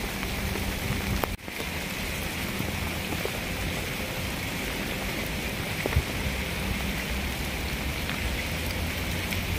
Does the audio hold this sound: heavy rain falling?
yes